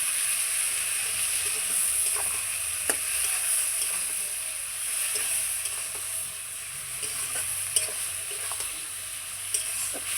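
Potato, drumstick and helencha greens fry in a pan with ground spice paste of dried chilli, garlic and mustard, giving a steady close sizzle and hiss with occasional soft stirring clicks throughout.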